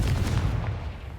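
A booming blast from the Confringo spell in the Hogwarts Legacy video game, one loud low-heavy burst that rumbles and fades over about a second.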